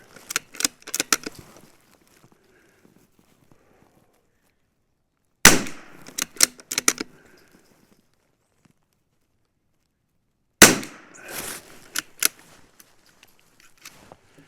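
Three bursts of rimfire shots from a rifle loaded with CCI SV rounds, lubed and un-lubed, each a quick cluster of sharp cracks, spaced several seconds apart with quiet gaps between.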